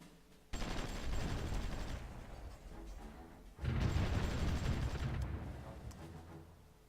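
Artillery barrages in the war strategy game Supreme Ruler Ultimate, a dense, rumbling volley of rapid booms and crackling gunfire in two long sustained bursts with a short lull between.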